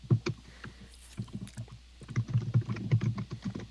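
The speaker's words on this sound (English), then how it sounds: "I love how you can hear the click clacking of his keyboard." Computer keyboard typing on a podcast, with irregular clusters of soft clicks and clacks that come in quick bursts and pause between them, fairly quiet and close with no talking.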